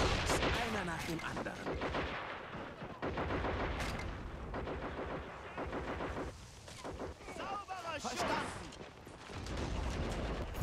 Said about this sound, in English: I've got the flak firing on.